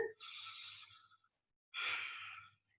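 Two long, slow exhalations during a yoga back-flow pose, each a soft breathy rush lasting about a second, separated by a brief pause, close and fairly quiet with no talking.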